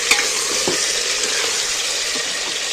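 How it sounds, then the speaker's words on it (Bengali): Chicken pieces frying in hot oil in a pan, a loud, continuous close sizzle with occasional stirring scrapes and clinks, no voices. "তেলটার মধ্যে নাড়াচাড়া করে মাংসটা একটু ভাজবো তেলের মধ্যে"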